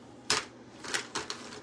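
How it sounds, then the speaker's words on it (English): Rummaging through a bag full of makeup, with a few close clicks and clatters of small cases knocking together in irregular bursts and no voices. "So now I'm like shuffling through all of it, trying to find what I need."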